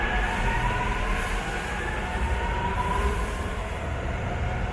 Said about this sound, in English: Here's the train we were just on.